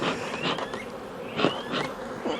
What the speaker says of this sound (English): these bees aren't real happy with me